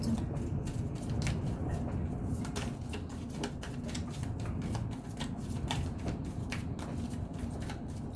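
Tarot cards are shuffled by hand in a continuous soft riffling and flicking, close and fairly quiet, with small snaps scattered through the steady rustle.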